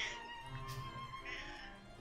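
A pet cat meows repeatedly in a continuous, moderately loud string of cries indoors.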